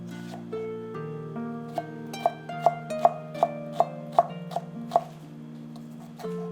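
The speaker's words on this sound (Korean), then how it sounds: "대파도 얇게 썰어 주세요." A knife thinly slices green onion in a quick run of crisp, evenly spaced cuts against a board, clear and close over soft background music.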